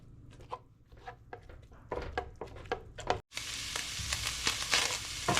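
Ground beef being chopped up with a spatula in a hot pan, with a series of tapping, scraping strokes that then give way to a loud, steady browning sizzle, with no one talking.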